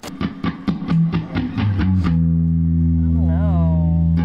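An electric guitar played through a Fender Princeton Reverb amp, either a ToneMaster or a '68 Custom, strikes rapid muted chords that ring into a sustained chord with vibrato-like wavering, loud and close.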